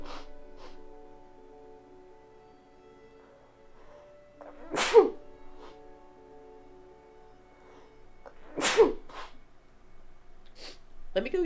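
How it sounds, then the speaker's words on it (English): Two sharp sneezes about four seconds apart, close and loud, during a relaxed crochet session, with a steady background tone running beneath them. "Excuse me, gotta sneeze."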